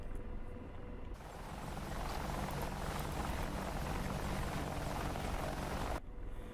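An Apache helicopter rotor in the DCS flight simulator roars steadily and close, a dense continuous thrum filling nearly the whole stretch before cutting away to quieter cockpit ambience.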